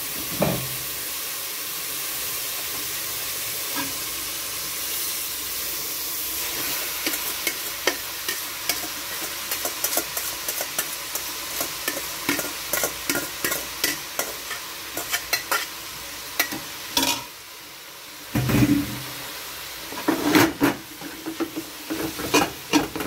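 Vegetable lo mein with soy sauce sizzles in a hot pan under a continuous hiss. Repeated scraping and stirring strokes come in irregular bursts, with a brief lull in the middle.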